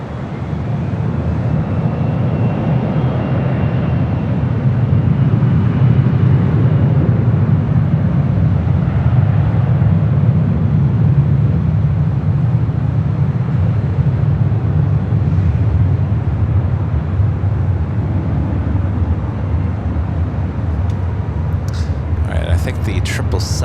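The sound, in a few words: Boeing 777 cargo plane flying overhead at LAX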